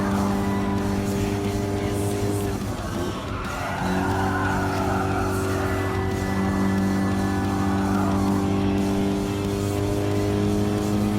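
A Toyota S-FR concept roadster races around a track in Gran Turismo Sport, its engine droning loudly and steadily with a brief tire squeal partway through.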